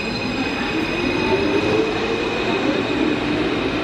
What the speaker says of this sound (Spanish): Estos trenes de la ruta verde no me sirven.